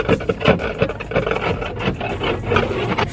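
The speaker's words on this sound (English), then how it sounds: "scraping stuff off the windshield" Frozen buildup is scraped off a truck windshield in the snow, with repeated rough, rasping strokes in an uneven rhythm, heard close and fairly loud, with no talking.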